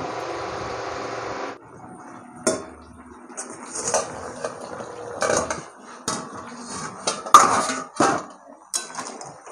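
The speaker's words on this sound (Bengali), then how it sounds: "এবার আমি ঢাকা দিয়ে দেবো।" A lid set on a cooking pot of potatoes and soybean chunks, heard as a series of sharp metallic clanks and knocks, close and uneven, after a brief steady hum fades out.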